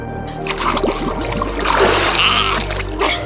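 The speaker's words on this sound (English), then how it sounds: "Jordan already jumped in." A person jumping into water at a house near Florence, Oregon, giving a close splash with churning, trickling water afterward and a brief second surge of sloshing.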